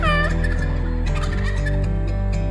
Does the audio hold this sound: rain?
no